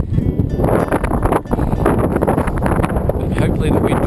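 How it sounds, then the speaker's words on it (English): Strong wind buffets the microphone during bicycle touring in the South Australian outback near Coward Springs. The roar is loud, steady and broadband throughout, with gusty swells, and no voices on top. "hopefully the wind will start to ease about this time of night, it normally does"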